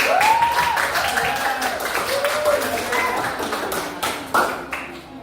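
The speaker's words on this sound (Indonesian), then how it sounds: "sekali lagi kita kasih tepuk tangan untuk semua" Students in a classroom give a short burst of clapping for all the groups, scattered taps and claps under a teacher's speaking voice, moderately loud and close.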